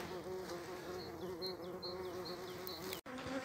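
Bees buzz steadily around the hive, a dense droning hum with a few louder passes of individual insects close by.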